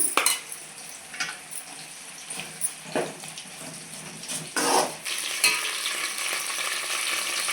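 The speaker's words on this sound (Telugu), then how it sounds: "కొంచెం ఉప్పు వేసినాకో తొందరగా ఫ్రై అవుతాయి ఆనియన్స్, టమాటా" Onions and tomatoes with a little salt frying in a pan, a steady sizzle broken by stirring scrapes and clinks of a utensil against the pan, close and clear with no talk.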